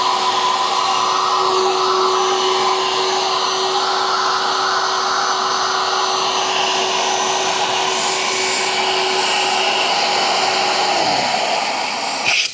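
An electric air pump inflating an air bed inside a Suzuki Every Wagon DA64W minivan drones loudly and steadily at close range, its pitch shifting slightly near the end before it cuts off.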